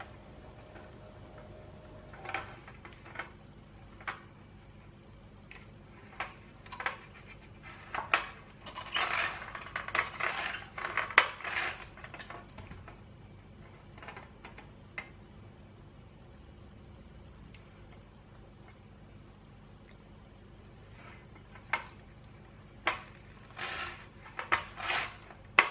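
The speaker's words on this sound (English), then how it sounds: "I use the mandolins to slice my corn" Thin slices of corn cut on a mandoline for Vietnamese corn pudding, heard as a run of sharp, quiet clicks and scrapes. The strokes are irregular at first, then gather into a denser burst, and fade to sparse ticks with no talking.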